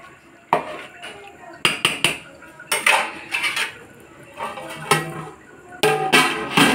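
Rice cooking in a pot is stirred with a metal spoon, producing intermittent clinks and scrapes against the pot in irregular bursts, fairly close, over a low background hiss.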